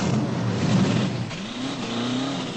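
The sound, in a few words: muscle car engine roaring and revving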